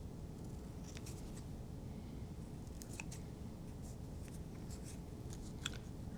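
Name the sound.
scissors trimming crepe paper ends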